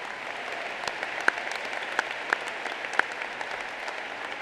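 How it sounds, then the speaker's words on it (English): Applause at a high school graduation commencement ceremony, scattered steady clapping from a gathered crowd with a few sharper individual claps standing out, moderately distant. "Let's give them a round of applause."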